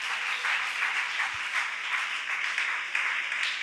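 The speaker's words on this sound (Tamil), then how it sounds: "கையை தட்டி கர்த்தருக்கு ஆரவாரம்" A congregation at a Tamil-language church service claps in praise to the Lord, a dense, even patter of many hands sustained throughout at moderate volume, with no voices heard.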